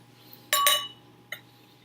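A beer glass for a brown ale is picked up and clinks sharply twice in quick succession, then gives one lighter clink a moment later, close and clear with no talk.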